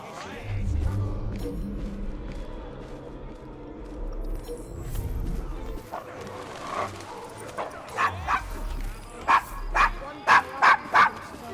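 Dog in the Assassin's Creed Syndicate video game, set in a rough Victorian London district, giving a series of sharp yips and barks that grow louder and more regular toward the end, following a stretch of murmured voices and rumbling street ambience.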